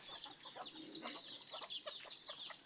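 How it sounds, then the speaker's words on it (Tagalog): Backyard chickens clucking and chattering together, a steady busy flock sound close by with overlapping short calls throughout. "Inisad akong mga manok, dili sad pwede nga dili sila maitsahan og mga bahog"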